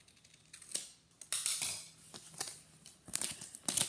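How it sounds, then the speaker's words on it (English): Scissors trim paper pieces for a homemade Wild Kratts costume, making a string of close, crisp snips and rustles that come in uneven bursts with short pauses between cuts. "I'm going to trim these real quick to match up with this one."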